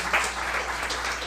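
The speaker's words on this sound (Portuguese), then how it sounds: "dê uma salva de palmas aí ao Senhor, em nome de Jesus" Congregation applauding inside a church during a Portuguese-language service, a steady wash of clapping heard throughout the short moment with a faint voice beneath.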